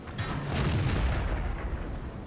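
Tank cannon fire in World of Tanks from a Type 4 Chi-To medium tank, one heavy booming blast with a long rumbling tail, loud and close, no talking.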